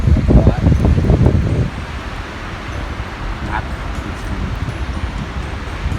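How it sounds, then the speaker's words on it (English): Strong wind blows outdoors by Blue Lake, loud buffeting gusts at first that settle into a steady rushing roar across the microphone. "The wind's blowing like a lot."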